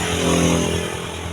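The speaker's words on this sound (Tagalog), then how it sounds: "nagpaka wild ang kanyang makina" A motorcycle engine runs wild, revving hard and continuously with a loud, rough, buzzing roar close by.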